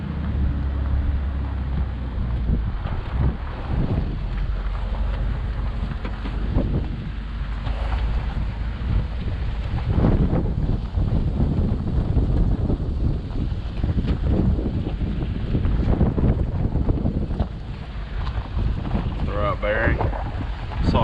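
Heavy wind buffets the microphone in continuous rumbling gusts, with water and boat noise beneath and a voice speaking faintly at times.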